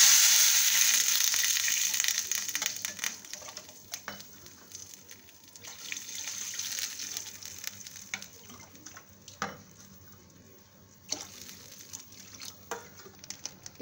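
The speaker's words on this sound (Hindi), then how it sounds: "अब दोस्तों हम इसमें पानी डाल देंगे।" Water poured into a hot pan of cumin seeds and asafoetida bursts into a loud, close sizzle that gradually fades into softer bubbling and crackles, with no one speaking.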